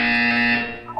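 A single loud electronic buzzer tone sounds up close, a harsh sustained buzz lasting under a second before fading out.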